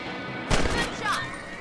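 A single rifle gunshot in the Western video game Red Dead Redemption: one sharp crack followed by a short rumbling tail, with a voice speaking just after.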